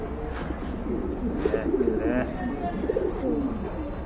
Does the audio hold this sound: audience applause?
no